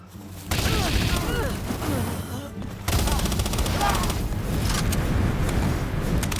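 Gunfire in Palworld: a dense, continuous stream of rapid shots and impacts, steady and loud almost throughout, with a brief dip near the middle before the firing resumes. Game sound effects and speech-like sounds are mixed in.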